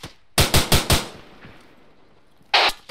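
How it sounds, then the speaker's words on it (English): ARMA 3 gunfire: a quick burst of four loud, close shots in rapid rhythm, a pause with a trailing echo, then another sharp shot. "I see some gunfire coming in from the barn."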